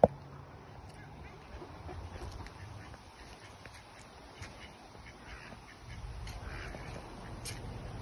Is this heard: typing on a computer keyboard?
no